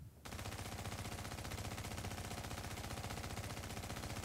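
A PP-19 submachine gun fires in the shooter video game The Division, a sustained rapid automatic burst that runs continuously and loudly after a brief quiet start.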